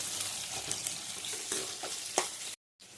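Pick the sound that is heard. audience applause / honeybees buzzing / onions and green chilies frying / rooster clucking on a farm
onions and green chilies frying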